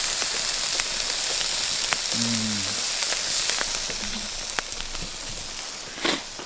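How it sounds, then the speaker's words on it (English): Steady crackling sizzle of food cooking over an open campfire on a snowy winter morning, a constant hiss with scattered pops and a brief low voice in the background. "You can even hear it sizzling."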